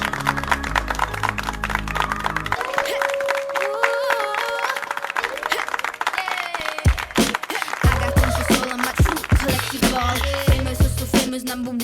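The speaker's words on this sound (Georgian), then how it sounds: "აი ჩვენი პატარძალიც, მოდით აპლოდისმენტებით შევეგებოთ." Wedding guests clap and cheer to welcome the bride's arrival, a dense crowd of applause over loud music, with voices mixed in.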